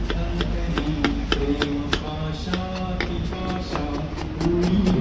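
Onions are chopped with a knife in an outdoor kitchen: rapid, steady taps of the blade striking the board, close and fairly loud, repeating throughout with a faint background hum.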